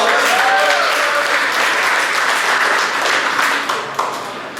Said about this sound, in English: Give Charlie a big round of applause.